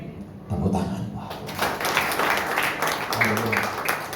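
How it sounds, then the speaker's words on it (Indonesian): A church congregation at Sunday worship breaks into applause after a quiet start, moderate clapping building and sustained, mixed with murmuring voices and a low tonal sound beneath. "Tepuk tangan."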